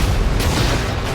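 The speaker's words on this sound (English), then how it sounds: "just look at these random explosions" Explosions from a movie trailer roll out as a loud, dense wall of booming rumble, sustained and heavy throughout with no voices.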